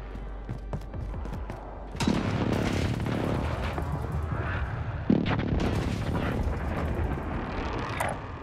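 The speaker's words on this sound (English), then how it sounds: "Be advised. Friendly precision airstrike inbound." Precision airstrike explosions in the Call of Duty style shooter with the Krig 6 rifle: a heavy boom bursts in at about two seconds, then a rumbling barrage of blasts and debris carries on, with a second sharp impact near five seconds.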